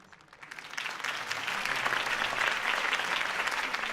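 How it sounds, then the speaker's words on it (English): A crowd breaks into applause after a political campaign speech in the Batman Telltale Series game, the clapping swelling quickly from quiet to a dense, sustained roar. "could have heard that applause"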